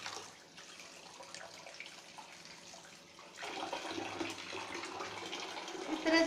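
Water poured off sprouted mung beans while washing them to remove the husks, a steady running splash that grows louder and fuller midway through, close by with no talking.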